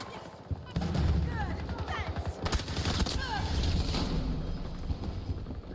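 In the video game Battlefield, a scatter grenade goes off amid gunfire, with rapid overlapping shots and bursts crackling steadily under ongoing noise.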